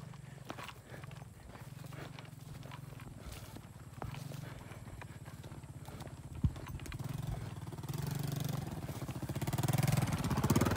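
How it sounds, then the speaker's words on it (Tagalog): A scooter goes by on a rough road in Northern Samar, its faint buzzing engine rising from a distant hum to a louder pass near the end, with scattered clatter in between. "May dumaan na scooter"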